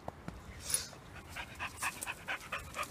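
Dog panting during a hike, quick rhythmic breaths close to the microphone with a few sniffs and faint jingles, moderately quiet and without speech.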